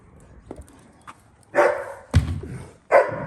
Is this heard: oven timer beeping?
no